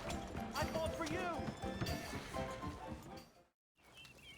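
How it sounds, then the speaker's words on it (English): In Red Dead Redemption 2, horse hooves clop in a quick, uneven rhythm close by, mostly under people talking, before a brief drop to silence. "Wow, fine horse there."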